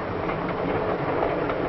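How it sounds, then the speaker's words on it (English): A passenger train rolls along the rails as it approaches a station, a steady, dense rumble with a faint clickety-clack of wheels, continuous and close, heard through muffled older recording. "the train is approaching a station"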